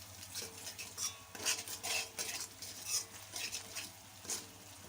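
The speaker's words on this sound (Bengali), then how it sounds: "এরপর দিচ্ছি 1 চা চামচ জিরে গুঁড়ো। দিয়ে আমি আবার নাড়াচাড়া করে নিচ্ছি।" Cumin powder being stirred into cooked-down spices in a pan, with a spoon scraping and clinking against the metal in quick strokes over a low, steady sizzle.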